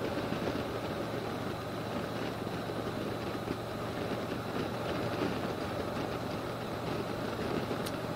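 A Harley-Davidson Street Glide motorcycle ridden on a road in Nova Scotia near Truro, giving a steady low engine drone with a continuous rumble and wind rush at an even level throughout.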